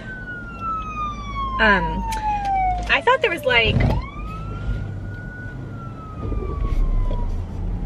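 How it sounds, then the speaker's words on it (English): An emergency siren wails steadily at mid distance, its pitch sliding up and down, while people talk over it close by. "Oh, I hear sirens."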